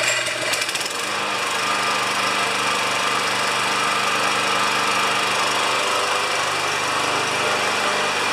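A lawn mower engine, recently repaired for quitting when hot, runs steadily during a test, loud and close with a constant buzzing drone after a brief rougher start, no talking.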